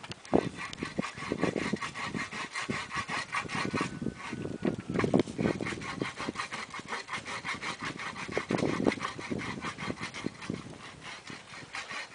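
A homemade universal garden hacksaw cuts through wood in rhythmic back-and-forth strokes, close and steady, with no one speaking.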